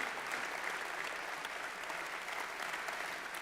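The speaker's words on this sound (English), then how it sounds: "you can continue to applaud" Applause fills a hall at a political event in Zurich, a steady, even wash of many hands clapping, somewhat distant and quiet, with no break throughout.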